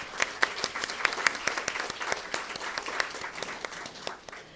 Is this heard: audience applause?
yes